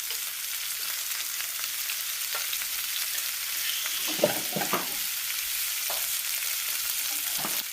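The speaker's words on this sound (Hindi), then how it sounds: "अब इस ऑयल के अंदर हमें इसकी जो है वो भुनाई करनी है।" Salted beef fries in oil in a pan, a constant sizzle heard up close, with a few spoon scrapes and stirring knocks partway through.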